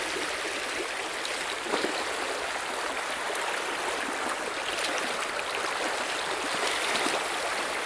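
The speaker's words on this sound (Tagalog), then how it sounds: "Ito na ulit, dumaan na ulit kami sa ilog." A river flows in a steady, broad rush of water with a fine bubbling texture, continuous and close, with no break through the whole stretch.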